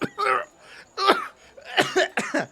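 A voice imitates a man coughing after he chokes on a drink of alcohol: three or four harsh, close coughing bursts separated by short pauses.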